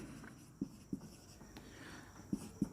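Pen writing out an equation on paper, with a few soft, separate taps and scratches spaced irregularly, faint and close over quiet room tone.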